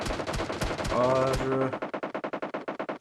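Rapid automatic gunfire from a PUBG Mobile esports tournament match, a fast steady burst of shots ringing out close and loud after a few earlier shots, with a commentator's voice briefly over the start.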